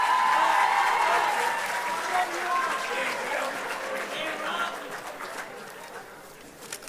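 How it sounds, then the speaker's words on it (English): Sustained applause from a high school varsity awards audience honoring student athletes, steady and dense at first and gradually thinning, with some chatter mixed in. "nice big round of applause for all of our student athletes"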